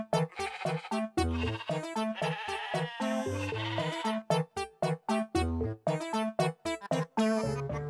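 Repeated sheep bleats from the video game Discounty, a rapid run of short, loud calls over a continuous game backdrop, with brief gaps between bursts.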